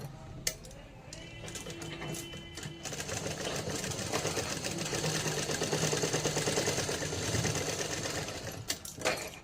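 A sewing machine stitching a blouse runs in a steady continuous whirring drone for most of the clip, close and moderately loud, with a few clicks and handling knocks at the start and end.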